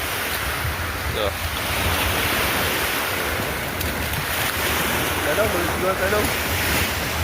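Large waves roll at sea around a small fishing boat, a constant loud wash of surf mixed with heavy wind buffeting the microphone, while someone says a few brief words.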